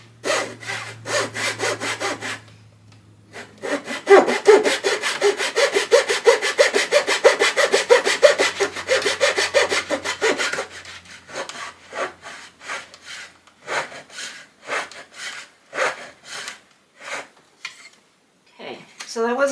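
Handheld saw cutting wood for a balustrade: rhythmic back-and-forth rasping strokes, close and clear, in quick bursts with a brief pause, then slower, spaced strokes toward the end.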